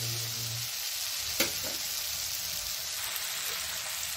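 Spice masala with amchur powder frying in a pan for panchmel dal, a steady close sizzle that runs alone without a break, with one brief clink partway through.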